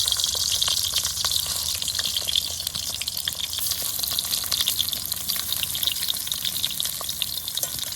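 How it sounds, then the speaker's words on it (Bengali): Shrimp paturi parcels wrapped in cabbage leaves fry in oil in a kadai, a close, continuous crackling sizzle with scattered pops and spatters, steady throughout with no talking. "চারটে চারটে করে ভেজে দেবো।"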